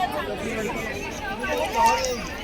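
Crowd chatter at a busy ISKCON temple, a dense babble of many voices nearby and steady throughout, with no single voice standing out.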